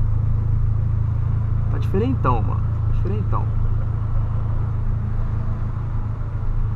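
A 2008 Volkswagen Polo Sedan engine drones with a steady, low rumble while driving, continuous throughout as someone speaks briefly over it from inside the car.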